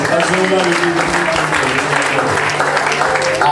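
A congregation claps together in a cathedral church service in Lome, Togo: dense, continuous rhythmic clapping with voices and singing mixed in underneath.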